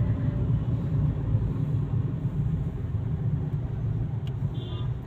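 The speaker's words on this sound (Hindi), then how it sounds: "हमारी गाड़ी बिल्कुल रेंग रेंग के चल रही है" A car crawls slowly through a heavy traffic jam near a crowded temple in Delhi. The engine and road rumble is low and steady and stays close throughout, with faint traffic noise around it and no talk.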